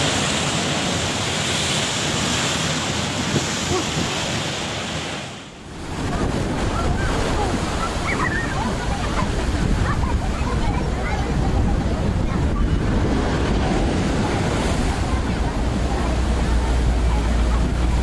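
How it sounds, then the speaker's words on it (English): Powerful storm waves crash over a coastal seawall and flood the street, a loud continuous roar of surf and wind buffeting the microphone, with one brief dip before the roar builds again. "Powerful storm waves crashed over the seawall and flooded the streets"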